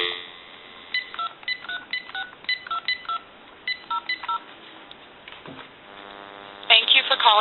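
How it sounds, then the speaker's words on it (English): A GE cordless DECT 6.0 phone gives a rapid series of DTMF dialing tones, about a dozen short touch-tone beeps in quick rhythm, followed by a line tone and ringing, heard up close through the handset. "Give you some dial tone."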